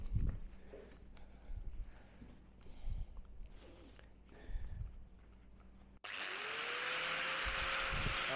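Angle grinder grinding metal on a Honda CB1100RS motorcycle build, first faint handling knocks and scrapes, then the grinder abruptly spins up into a loud, sustained high whine that continues to the end.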